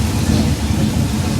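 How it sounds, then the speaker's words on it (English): A loud, steady wash of simulated rain with a low rumbling thunder effect fills a studio backlot set, continuous and close. "I don't really think this is that much rain"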